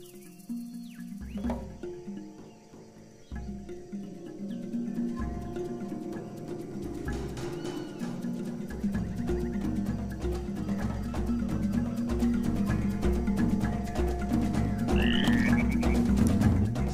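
Dense jungle ambience from the Tarzan 2 animated film: many frogs croak in overlapping rhythmic pulses, steadily building louder over the span, with no music or talking.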